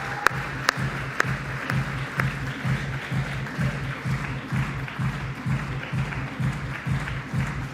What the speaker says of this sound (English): Please help me welcome on stage with a warm round of applause